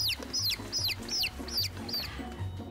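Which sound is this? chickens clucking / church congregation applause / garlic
chickens clucking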